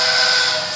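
A Kingsley four-chime steam whistle gives a brief, loud, steady chord with heavy steam hiss. The single blast holds for under a second.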